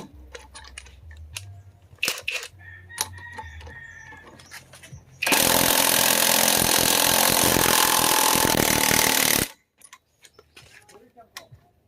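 An impact wrench hammers continuously for about four seconds while removing a car alternator pulley, loud and close, after scattered metallic clinks of tool setup, with someone talking around it.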